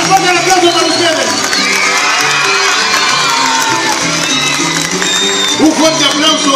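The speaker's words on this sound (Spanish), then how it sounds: "Fuerte el aplauso para ustedes." A large festival crowd, with many children, cheers, whoops and shouts loudly and continuously throughout, at a school event during the Luminaria festival.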